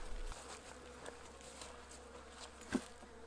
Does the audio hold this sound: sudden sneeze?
no